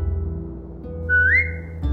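A player character whistles to a dog in The Walking Dead video game: a single short rising whistle over a low steady game ambience, clear and fairly close, with no talk during it.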